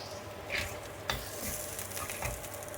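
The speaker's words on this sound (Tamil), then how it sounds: "இதுக்கு கொஞ்சம் தாளிப்பை கொஞ்சம் போட்டுட்டு" Spices for a tempering sizzle in a hot pan, with a quick stirring scrape and a faint utensil clink over a brief, moderately loud frying hiss.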